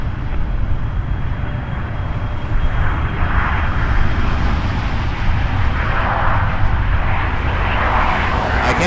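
A Boeing 737 takes off from Toronto Pearson Airport, its engines a steady, broad roar heard from a distance that swells slightly as the aircraft gathers speed, with no voices over it.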